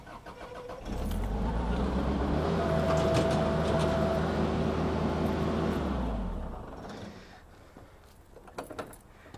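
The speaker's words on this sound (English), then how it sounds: "we're going to start the machine and lift the mower deck up in the air" A Kubota F3990 front mower starts up and runs with a steady, close diesel engine rumble, rising in pitch as the mower deck is hydraulically lifted, then cuts off, leaving light clatter and handling noises.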